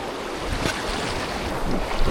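River rapids rush around a kayak, with churning whitewater and recirculating water near rocks. A steady, loud, broadband roar fills the clip without a break, close by, and no one speaks.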